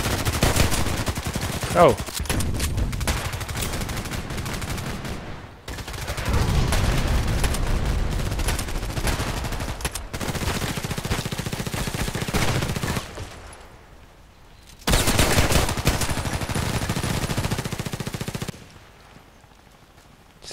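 Pistol fire from an HK USP in the Contract Wars shooter, heard as dense bursts of loud gunshots in several blocks separated by short pauses, with a brief exclamation from a player.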